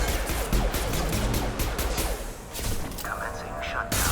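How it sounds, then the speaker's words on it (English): Rapid gunfire from a Mass Effect firefight, dense volleys of shots with thuds rolling steadily near and loud, mixed with game sounds and a voice speaking over the action. "Firing now."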